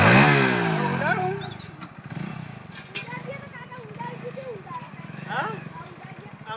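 A motorcycle engine runs loud and close, opening on a strong rev that settles into a steady rumble, while voices talk over it.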